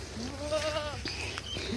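A goat gives a single wavering bleat with a quivering, nasal tone, close and fairly clear over a steady outdoor background hum, followed by a few small knocks and rustles.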